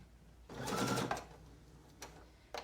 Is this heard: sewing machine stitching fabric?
yes